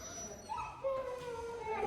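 A puppy at play gives thin, high whining yips and short howls at close range, faint and steady across the moment with no talk over it.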